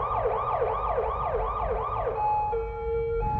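Several ambulances' sirens wail loudly in fast repeating sweeps, then shift to a steadier tone as the vehicles rush past close by.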